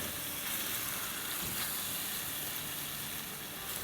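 Tomato puree hitting a hot pan while making spicy chatpatay potatoes, a steady, fairly quiet sizzle and hiss that runs unbroken from start to finish.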